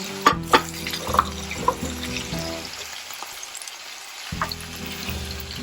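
Green beans drop into a sizzling pan of vegan paella with cluster mushrooms, setting off a bright crackling fry with a few clattering stirs, a brief quieter lull, then the sizzle surging back.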